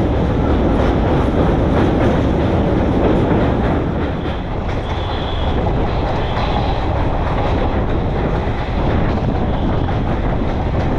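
A long-distance train bound from Sealdah toward Falakata runs at speed, heard from on board as a loud continuous roar with rhythmic wheel clatter and buffeting wind noise throughout, with no talk.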